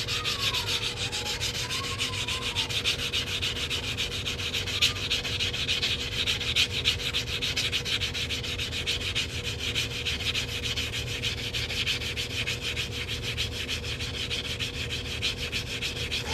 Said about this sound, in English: So now what I'm going to do is sand this cut edge right here and smooth that out a little bit.